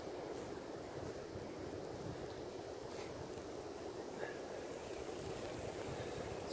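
Steady wind roars across a big hill in the Catskill Mountains of Upstate New York on a cold day, a constant broadband rush buffeting the microphone with no speech.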